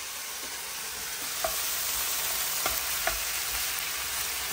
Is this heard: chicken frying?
yes